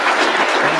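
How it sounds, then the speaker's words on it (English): A conference audience breaks into applause for a police chief, a short, loud burst of dense clapping under a second long. "would you please give Chief Moody a warm round of applause?"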